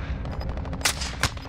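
Enemy gunfire in the shooter game Warzone, two sharp shots standing out near the end of a dense, steady game soundscape.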